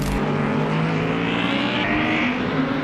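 An Audi GT race car roars past on the track at the French Grand Prix, a loud, close, sustained engine note that rises and shifts in pitch as it passes, with no voices.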